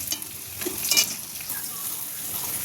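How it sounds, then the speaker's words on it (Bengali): Bitter gourd slices sizzle in hot oil in a home kitchen pan, a steady bright frying hiss with a few stirring scrapes and clinks near the start, close and moderately loud. "উচ্ছেগুলো ওইদিকে ভাজা হয়ে গেছে"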